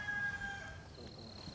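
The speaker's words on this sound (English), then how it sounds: "with the noisy roosters and all" A rooster crows faintly in the distance at a rural homestead two hours from town, a single drawn-out call over low outdoor background noise.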